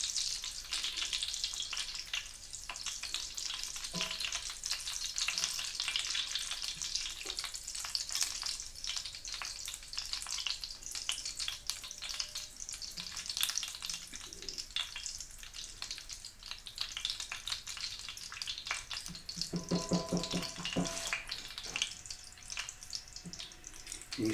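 Butter browns in a cast iron skillet with a continuous soft crackling sizzle, steady and moderately close, joined by a few faint clinks and stirring sounds.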